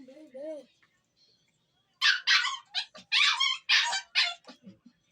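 A dog barks in a quick series of sharp, close yaps, some whiny, after a brief low murmur at the start.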